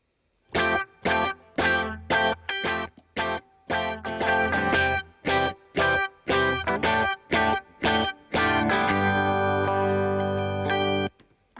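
Electric guitar with a tone shaped by drive and effects in Logic Pro plays a string of short, loud strummed chords with brief gaps, then ends on a long sustained ringing chord.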